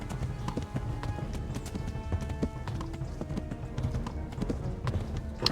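A horse gallops in Kingdom Come: Deliverance, the hooves pounding in a rapid, steady clip-clop rhythm close by, with a low rumble of movement beneath.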